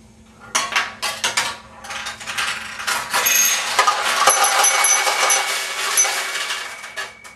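Steel balls drop through a Nishijin pachinko machine, bouncing off the pins in a rapid cascade of bright metallic clinks and rattles, first in a few quick bursts, then a dense, continuous jangle with sharp high pings, close and fairly loud.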